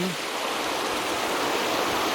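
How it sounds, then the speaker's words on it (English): A mountain stream rushes over boulders in the Lairig Ghru, a steady broadband roar of flowing water, close and continuous throughout, with no voices. "here's where it emerges from the boulders, and I'll now be crossing the stream here"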